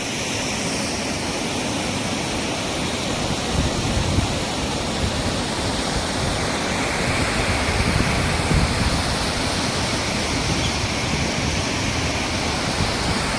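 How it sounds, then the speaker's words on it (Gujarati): River water pours over a check dam on the Singvada river, a steady, dense, unbroken rushing roar that holds at an even loudness throughout with no voices. "અને આ છે આપણો સિંગવડા નદીનું પાણી જુઓ કેટલું અહીંયા પણ એક ચેક ડેમ છે"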